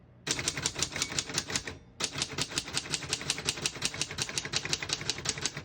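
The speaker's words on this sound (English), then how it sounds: "We're going to keep it on single and finish typing." A 1931 Smith-Corona portable typewriter types in fast, steady runs of sharp key strikes, with a short pause before the clatter resumes, close and loud.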